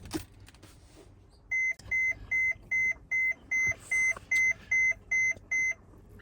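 An ATOTO X10 car stereo powering on gives a clear run of about ten short, evenly spaced electronic startup beeps, close and crisp, with no talk over them.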